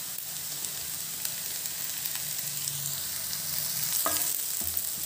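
Onion frying with coriander leaves and curry leaves in a pan, a close steady sizzle with frequent stirring scrapes and a louder crackle burst near the end.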